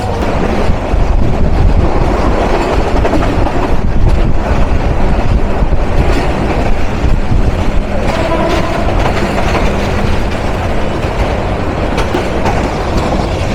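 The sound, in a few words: train running on rails, Lalmoni Express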